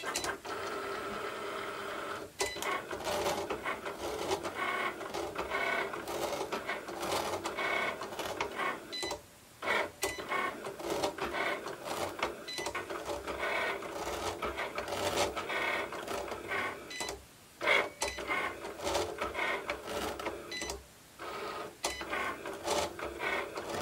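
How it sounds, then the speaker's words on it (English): A Cricut Explore or Maker cutting machine slicing a design into thin wood veneer, its carriage whirring and clicking steadily in a close, continuous mechanical drone with brief pauses as the blade changes direction. "So now let's hit our C and cut our design."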